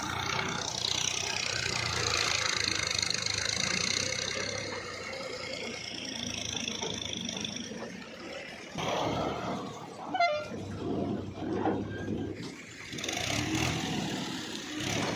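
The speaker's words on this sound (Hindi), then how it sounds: "चारों तरफ ये ट्रैक्टर ही ट्रैक्टर लगे हुए हैं।" Steady rumble of many tractor engines running outdoors, with a low drone holding throughout and some louder revving bursts toward the end.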